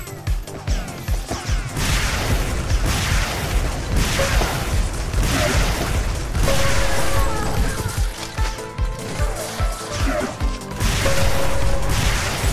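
A heavy weapon fires over and over in the arena shooter Xonotic during a Defrag match: dense, loud bursts of blasts and crashes follow one another almost without pause, with a brief tonal whine surfacing midway.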